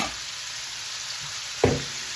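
White and red onions with broccoli sizzle steadily in a hot stir-fry pan, a constant close frying hiss broken once by a single knock of a utensil against the pan.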